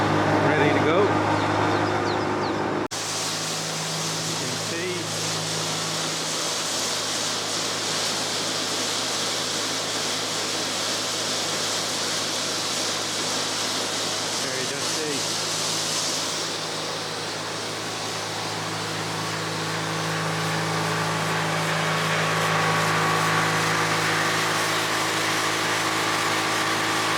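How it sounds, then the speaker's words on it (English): A feed delivery truck hooked up to unload six tons of layer feed runs with a steady, continuous engine and mechanical drone, loud and close, its tone shifting slightly partway through. "Just got our feed truck here,"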